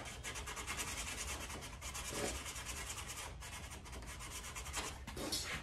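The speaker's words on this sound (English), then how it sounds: "Next step is I'll just do a little sand in here and clean this edge up" Sandpaper rubbing along the edge of a wooden scratch box turkey call, a steady close rasping scrub with no voices.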